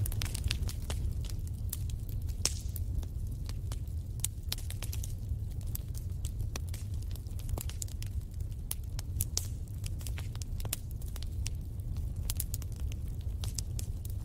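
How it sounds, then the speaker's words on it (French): A fire crackles steadily, with frequent sharp pops and snaps over a low, even rumble that lasts the whole stretch at a soft, constant level. "Le son du feu qui crépite a quelque chose de réconfortant."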